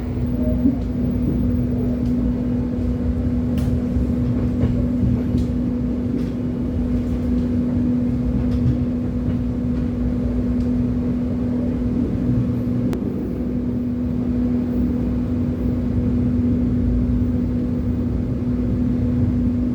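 A steady, loud rumble and droning hum from inside the Argo Parahyangan train as it runs straight through Cikampek station, continuous with no break.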